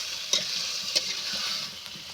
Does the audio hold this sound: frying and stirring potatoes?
yes